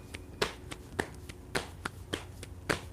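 Typical pop drum beat tapped out with hands and feet, steady sharp slaps and claps over soft low thumps in an even groove, fairly quiet and alone.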